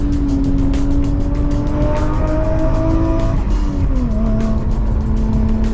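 A Toyota Chaser launches down a slippery race track, its engine roaring loud and close as the pitch climbs through gears with a brief dip at a shift, tires hissing beneath.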